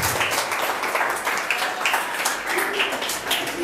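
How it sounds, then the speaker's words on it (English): An audience of students at an international school in Takoradi, Ghana, clapping together for several seconds, a dense, even patter of hands with no pauses. "let's clap for them."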